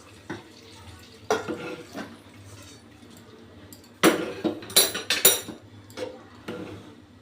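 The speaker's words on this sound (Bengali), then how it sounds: "এবার একটু নেড়ে দেব।" Khichuri being stirred in a cooking pot, a metal spoon scraping and knocking against the pot in scattered bursts, with a few sharper clinks over a quiet kitchen background and faint talk.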